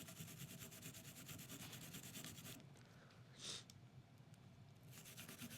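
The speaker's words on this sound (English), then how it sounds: "turning the gun over, we can scrub down this cylinder face" A brush scrubs the cylinder face of a Taurus small-frame revolver in quick, rhythmic rubbing strokes, very faint and close, pausing briefly midway before the scrubbing resumes, with no talking.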